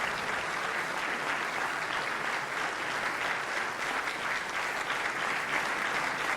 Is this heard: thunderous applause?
yes